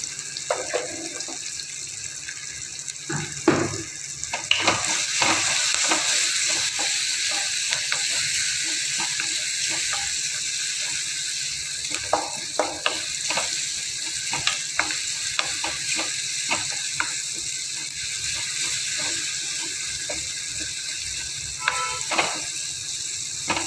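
Turmeric going into a frying pan for Rayalaseema-style uggani, with a steady low sizzle of oil and scattered scraping taps of a spoon stirring close by, continuing evenly throughout.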